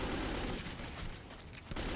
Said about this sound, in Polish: Trzy strzały.